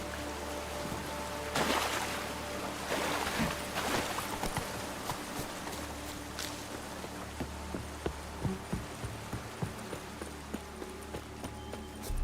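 Roach, a horse in The Witcher 3, gallops with steady clip-clop hoofbeats over a constant low game hum, with a faint patter like rain behind.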